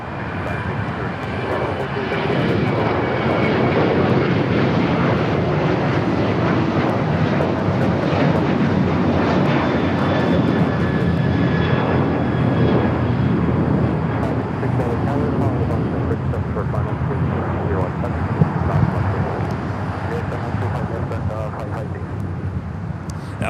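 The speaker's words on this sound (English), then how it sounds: "That was a United 737-800 heading to Cabo, flight 797." A United Boeing 737-800 airliner roars steadily down the runway and climbs out at LAX, a loud, sustained jet-engine rumble with a broad hiss holding for over twenty seconds.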